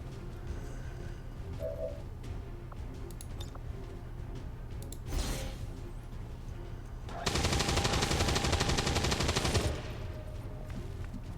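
A long, rapid burst of automatic gunfire from a demolition shot in the XCOM 2 video game, loud and continuous for a couple of seconds amid a steady low background hum; no talking.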